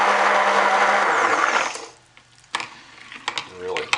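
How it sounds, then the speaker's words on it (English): A stick blender whirs loudly for almost two seconds as it mixes, then cuts off and leaves a few light clicks and handling knocks. "Let's get this in there and stick blend this up."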